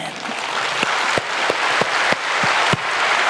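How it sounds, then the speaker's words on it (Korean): A church congregation breaks into loud, sustained applause during a Sunday evening service, a dense close wall of clapping with a few sharp thumps standing out at irregular moments. "생명의 말씀 주시는 예수님께 영광의 박수를 올려드립니다"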